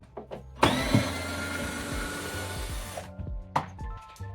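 Power drill driving screws out of cabinets inside a narrowboat during a living room strip-out, one sustained loud whir of about two and a half seconds between short clunks and knocks, with no talking.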